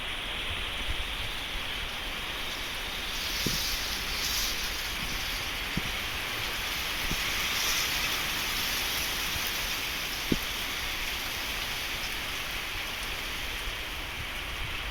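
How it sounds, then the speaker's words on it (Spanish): Steady rain falls with a light wind in Tlaxiaco, Oaxaca, a soft continuous hiss broken by a few sharp drips or taps, with no voices. "Lluvia con vientecito."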